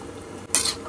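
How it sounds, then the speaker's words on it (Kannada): Water goes into a pot of thick, simmering rasam: a low kitchen murmur, then a sudden short burst of hissing splash about halfway through. "ಇವಾಗ ಸಾರು ಕನ್ಸಿಸ್ಟೆನ್ಸಿಗೆ ಇನ್ನೊಂದು ಸ್ವಲ್ಪ ನೀರು ತೊಗೊಬಂದು ಹಾಕ್ತೀನಿ"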